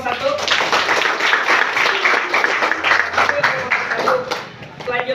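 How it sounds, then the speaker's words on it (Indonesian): Classroom applause for a student group after their presentation, a burst of lively clapping from students lasting several seconds, with chatter and voices mixed through it. "Tepuk tangan dulu untuk kelompok 1."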